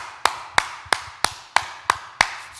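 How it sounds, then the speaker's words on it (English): Seven sharp, evenly spaced claps sound at a steady beat, close and fairly loud, with no other noise between them. "Let's clap for that, man."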